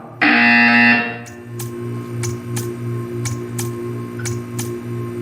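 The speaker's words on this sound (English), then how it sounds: "You will hear a buzzer." A Portal 2 video game buzzer gives one loud, flat electronic blare lasting about a second, then falls to a steady low hum broken by a series of faint, evenly spaced clicks.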